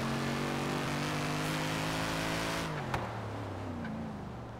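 Supercharged 1969 Dodge Charger Daytona Hemi engine in a racing video game, a loud steady drone that drops in pitch and shifts as it eases off, alone.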